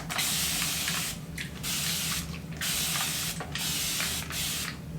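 A spray bottle mists water onto freshly washed hair in about five quick, close hissing bursts with short pauses between them.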